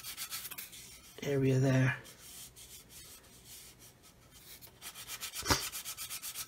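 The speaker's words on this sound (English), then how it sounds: "Just going to keep sanding until that step's gone. And keep running the sanding stick up that" A sanding stick rubs back and forth along a 1/144 scale plastic model aircraft, a Roden C-141B Starlifter kit, in close, dry, scratchy strokes of varying length, with one brief spoken phrase in the middle.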